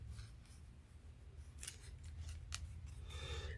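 Scissors snipping through a foam pool noodle for a candy cane craft, a few quiet crisp cuts over a low hum of room noise.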